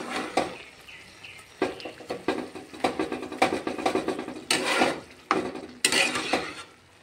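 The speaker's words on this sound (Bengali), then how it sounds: "এবার একটু নেড়ে দেব।" A dry fish curry is stirred in a pan, with repeated scraping and clattering strokes of a spoon against metal in an irregular rhythm over a light sizzle, close and moderately quiet.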